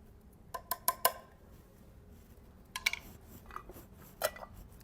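A spoon mixes dal with green chillies, tomato, onion and spices in a metal pot, making short clusters of sharp metallic clinks with quiet gaps between them.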